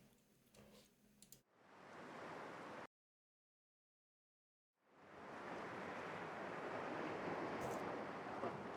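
Strong wind set to very windy from the north in a video game, a steady broadband roar that rises after a short silent gap and holds loud and even to the end.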